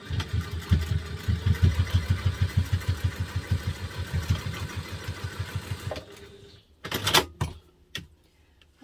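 A sewing machine stitches a seam on a double zip mini wallet, its fast, even mechanical thumping running for about six seconds before stopping, followed by a few clicks and handling noises.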